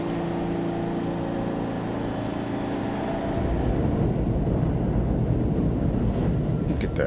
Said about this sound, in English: I wonder if that train is going uptown or downtown